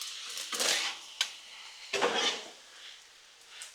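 Shrimp fried rice is mixed on a Blackstone griddle with metal spatulas, producing scraping swishes and a couple of sharp clinks, close up with no talk.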